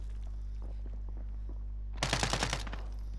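A short, loud burst of rapid automatic fire in Call of Duty: Modern Warfare cuts in partway through after a quiet stretch of low hum and faint game sounds.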